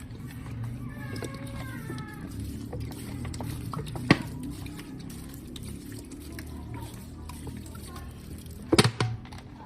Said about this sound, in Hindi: अभी इसमें पानी डालेंगे,